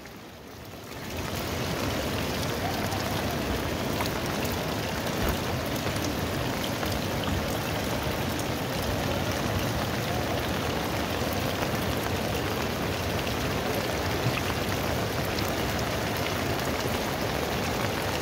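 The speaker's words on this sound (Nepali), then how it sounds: "यो आरी घोप्टे वर्षाको प्रभाव हामी देख्न सक्छौँ यति बेला" A heavy downpour lashes Kathmandu during deadly monsoon flooding, the rain rising within the first second into a constant, loud roar of drops hammering surfaces nearby, unbroken and with no voices.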